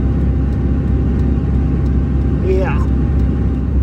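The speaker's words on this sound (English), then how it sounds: "I am stuck in second gear in a construction zone with a line of traffic behind me." A car engine drones loudly and steadily while stuck in second gear, straining in a construction zone with traffic behind, and a voice briefly speaks over it.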